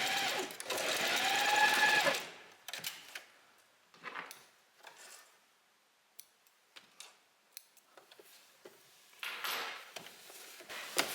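A sewing machine stitches a blouse seam in a short, loud burst lasting about two seconds, followed by quiet clicks and handling noises as the fabric is adjusted, with another brief whir near the end.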